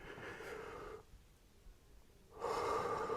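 Slow, close breathing during meditation: a long audible breath, a quiet pause of about a second, then the next breath begins. No one speaks.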